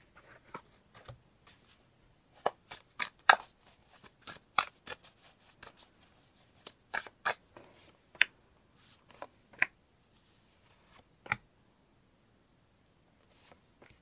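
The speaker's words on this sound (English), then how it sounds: "Okay, I'm going to pull more cards." Tarot cards being handled, shuffled and pulled for a reading, giving a long series of crisp close flicks and snaps in irregular bursts, with quiet gaps between and no talk.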